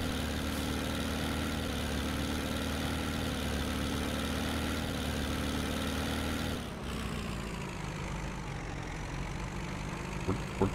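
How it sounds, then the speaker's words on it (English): A tractor engine idles in Farming Simulator 17, a steady low diesel drone with a rough mechanical rumble that shifts slightly in pitch and level partway through, heard alone without talk. "Nice little tractor."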